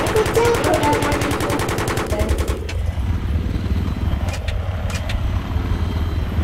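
Gunfire in the video game Battlefield 3, with a rapid, loud machine-gun rattle for the first couple of seconds, then a droning engine-like rumble with a few isolated sharp shots afterward.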